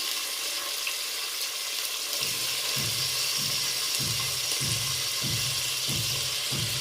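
Chopped tomato sizzles in a pan for a spicy mutton curry, a steady loud hiss with soft rhythmic stirring thumps starting partway through.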